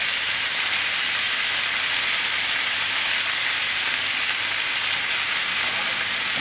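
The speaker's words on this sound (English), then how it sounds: "I'm putting in my giblets and I allow this to fry." Chicken giblets frying in a pan, a loud, dense, continuous sizzle close by with no talk.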